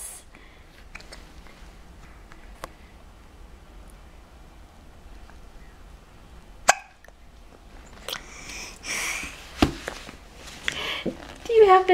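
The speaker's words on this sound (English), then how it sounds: "Do you have the hiccups?" A child has hiccups, giving a few short, abrupt catches scattered among quiet stretches, with an adult's voice speaking in between and a burst of louder handling noise near the end.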